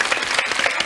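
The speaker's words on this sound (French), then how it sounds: "moi je l'applaudis" Studio audience on a French children's TV show applauding Julie after she presents a dish of fish and mandarin segments, a short dense burst of steady clapping with no voices over it.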